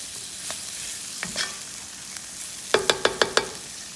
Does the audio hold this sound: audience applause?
no